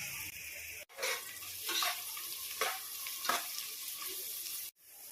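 Onions frying in oil inside a pressure cooker, a continuous hiss and sizzle broken by a few stirring scrapes, starting and stopping abruptly, with no talk.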